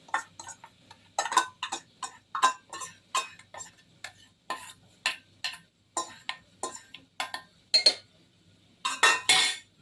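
Sharp metallic clinks and taps ring out in an irregular series as washed dal goes into a pressure cooker, each strike close and bright, with short pauses between bursts.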